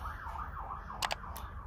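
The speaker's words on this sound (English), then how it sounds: "don't mind that siren" Wailing emergency siren rising and falling outside, faint and distant, heard indoors in a workshop-like setting, with a couple of brief sharp clicks near the end.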